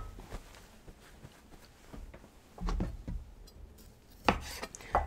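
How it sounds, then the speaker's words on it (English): A knife chops tomatoes on a cutting board in a home kitchen, with irregular close taps and a few louder thuds near the middle and the end, and no talking. "I'm chopping up some tomatoes right now."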